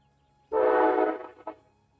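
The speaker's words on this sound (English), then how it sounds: "Train." A train horn in a game of Path of Exile 2 sounds one sustained harmonic blast of about a second that fades out, then a brief second toot, with no voices.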